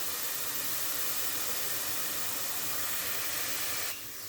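Vegetables fry in hot oil until golden for a vegetable kurma, giving a steady loud hiss and sizzle that holds evenly before dropping off sharply near the end.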